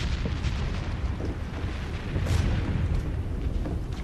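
Distant French artillery cannon fire rumbling in deep, low booms under a steady background roar, no voices.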